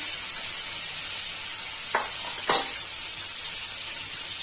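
Tomato sautéing in a pan sizzles in a constant close hiss, broken by two brief sharper spits or stirring clicks near the middle, with no voices.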